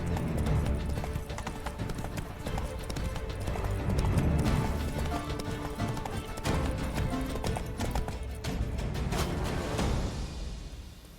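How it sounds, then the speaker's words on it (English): A horse gallops in the Witcher 3 video game, with rapid, continuous clip-clop hoofbeats up close. They carry on for about ten seconds and then stop. "Run, Roach."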